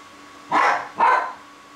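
A dog in a room barks twice in quick succession, two loud, close, sharp barks about half a second apart, with a low steady hum underneath.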